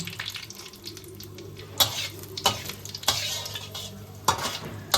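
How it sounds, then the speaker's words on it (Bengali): Panch phoron, a bay leaf and dried chillies crackle in hot oil in a kadai, with a continuous close sizzle broken by several sharp clinks and scrapes of a utensil against the pan. "কড়াইতে তেলটা আমাদের গরম হয়ে গেছে। আমি কিছুটা পাঁচফোড়ন দিয়ে দিলাম, একটা তেজপাতা আর শুকনো লঙ্কা দিয়ে দিচ্ছি।"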